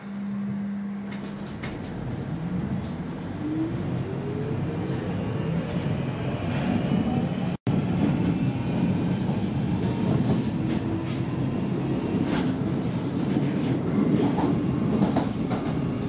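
London Underground Northern Line train running between stations, a loud, continuous rumble with a rising motor whine as it speeds up, rail clatter throughout and one brief dropout.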